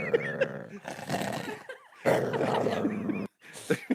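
A dog bark effect fired from a podcast drop machine, a run of loud barking and growling dog sounds with brief gaps, played under and between voices on the show.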